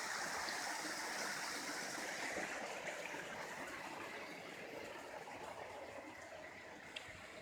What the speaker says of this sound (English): This is all hot spring water too.